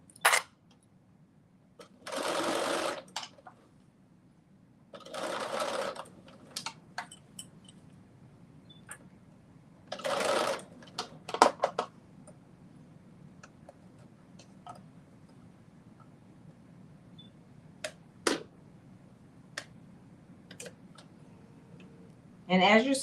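A sewing machine stitching a shirt seam, running in a few short buzzing bursts of about a second each, separated by pauses with small clicks and handling noises.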